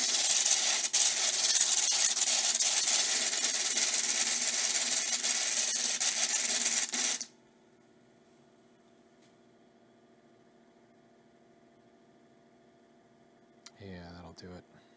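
A round stone cabochon is ground on a lapidary wheel with a loud, steady hissing grind for about seven seconds, then the grinding cuts off and only a low motor hum remains, with a brief knock near the end.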